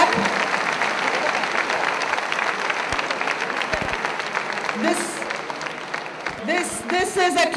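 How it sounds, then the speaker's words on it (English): Audience applause at a public debate in South Bangalore, a steady mass of clapping filling most of the clip before fading as voices break through near the end. "Let's have a loud clap."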